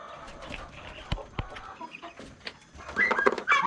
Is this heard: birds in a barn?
yes